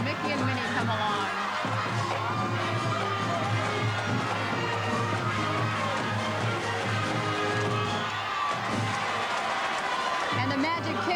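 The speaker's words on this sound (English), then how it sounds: "The crowd always goes crazy when Mickey and Minnie come along." A packed parade crowd at the Magic Kingdom during a 1995 Christmas parade cheers and claps for Mickey and Minnie, a dense, continuous roar of voices and applause with a commentator talking over it.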